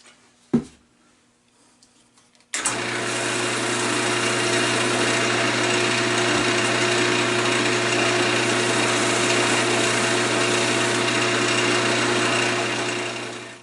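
A wood lathe spins steadily with a loud, even motor whine while wax is applied to a delicate turned offset tea light, starting abruptly after a brief knock and running continuously to the end.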